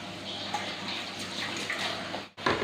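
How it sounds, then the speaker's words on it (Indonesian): Close, steady splashing as a little water is poured into a pan to wilt cabbage leaves, continuing for about two seconds before a brief break and a final splash. "Tambah sedikit airnya."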